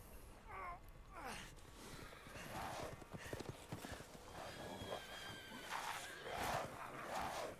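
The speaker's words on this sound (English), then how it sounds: "They have horses" Horses in the video game Resident Evil Village, with hooves clip-clopping and loud neighs and whinnies ringing out over a steady game soundscape, the calls peaking near the start and again toward the end.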